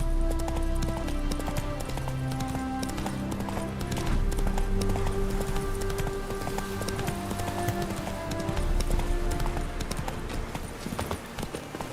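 Roach, Geralt's horse in The Witcher 3: Wild Hunt, clip-clops along in a steady galloping rhythm of hoofbeats over sustained game music.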